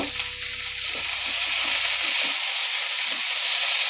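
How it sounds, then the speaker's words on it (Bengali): Mixed vegetables, including Malabar spinach stems, sizzle and hiss steadily in a pan as they are stirred, with soft scraping knocks over the frying. "5 মিনিট পর ঢাকা খুলে আমি আরেকবার নাড়িয়ে চাড়িয়ে নেব"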